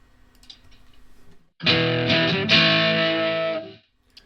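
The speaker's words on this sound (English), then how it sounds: "you get a distorted guitar sound in your headphones, but it's not squealing" A loud burst of distorted electric guitar through a Marshall-style amp simulator in GarageBand rings out for about two seconds, a sustained chord with heavy crunch, after near silence, then cuts off.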